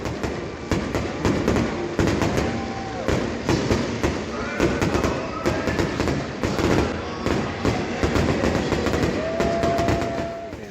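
Fireworks show after a baseball game, with repeated bursts and booming pops at an irregular rhythm, a few whistling streaks rising between them, over a constant murmuring crowd.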